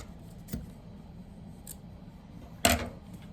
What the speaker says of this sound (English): I'm just going to trim the ends of these as well